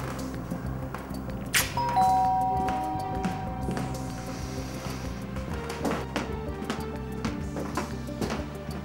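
A doorbell rings once with a clear electronic chime, followed by clattering, rustling and footsteps nearby.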